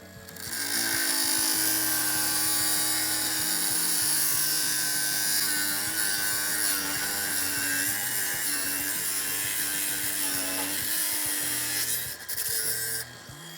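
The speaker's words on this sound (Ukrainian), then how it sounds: "Інструмент із звуженим редуктором так само добре ріже, хоча й має трохи менші оберти" A Procraft cordless angle grinder with a slim gear head cuts steadily, giving a loud, sustained high whine and grinding rasp that runs close and continuous before easing off near the end.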